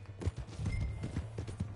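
Horse hooves clip-clop at a steady walking rhythm in an open-world western video game, near and fairly loud over a low background rumble, with no talking.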